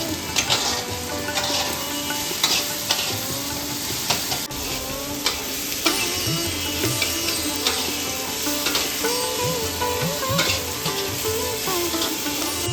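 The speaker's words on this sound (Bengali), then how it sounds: "টমেটো আর পেঁয়াজ একসাথে ভাজার সময় এবার দিয়ে দেবো আগে থেকে ধুয়ে রাখা গোটা রসুনটা" Tomato, onion and whole garlic cloves frying in oil for mutton kosha, a dense continuous sizzle with frequent spatula scrapes and stirring clatter, close and loud, no voices.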